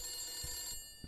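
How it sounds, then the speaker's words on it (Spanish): An old-fashioned telephone rings in a horror video game, The Beast Inside, a brief metallic bell ring that is fairly faint and stops abruptly, with no talking. "Que es un teléfono de boomers."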